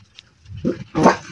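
A dog bark sounds in two short, fairly loud bursts close by, the second stronger. Both come after a faint sound near the start, in an outdoor vegetable garden with eggplant and string beans.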